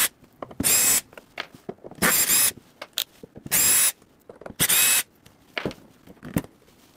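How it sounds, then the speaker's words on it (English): A power screwdriver backs six chassis screws out of a vertically mounted Fender Hot Rod Deluxe tube amp on a workbench, giving several short whirring bursts separated by quiet gaps and small handling clicks. "So just 6 screws here to get into the chassis here."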